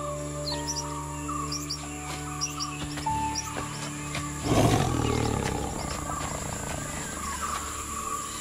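A female tiger lets out a single loud, close roar midway, rising from a quieter background of birds chirping and calling in the wild.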